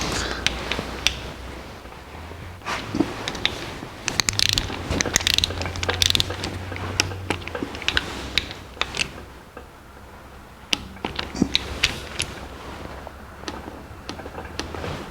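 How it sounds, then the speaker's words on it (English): A hand ratchet tightens cam bolts on a 1964 C10 pickup engine, with close, rapid clicking bursts and metallic ticks in irregular spurts, plus a low mechanical rumble at moments. "We're going to put these cam bolts in."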